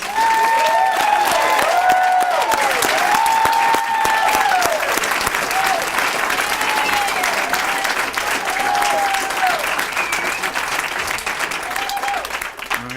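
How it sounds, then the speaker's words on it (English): A large crowd at a naturalization ceremony at Bandelier National Monument applauds steadily for several seconds, a dense patter of clapping that slowly thins and softens toward the end. "let's give another round of applause for the newest citizens of the United States"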